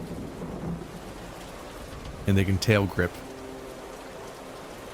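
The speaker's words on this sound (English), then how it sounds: "Heavy rain swirls around me as the sound of harsh wind drowns my senses." Heavy rain pours steadily with thunder rumbling in the Lyre game, and a short burst of speech cuts through partway along.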